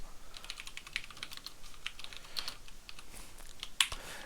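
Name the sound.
typing code on a computer keyboard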